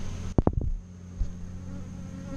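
Honey bees at a heavy hive give a few quick, loud buzzing bursts close by, then settle into a faint steady hum.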